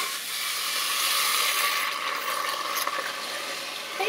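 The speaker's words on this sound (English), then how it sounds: "And so put the bone broth in the pan." Bone broth hitting a hot pan beside a rib-eye steak, a loud steady sizzle and hiss that swells and then holds without letting up.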